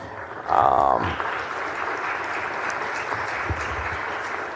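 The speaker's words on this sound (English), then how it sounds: "Give them a big round of applause." An audience in the Texas Senate chamber breaks into sustained applause that swells quickly after a brief spoken phrase, then holds as a steady wash of clapping.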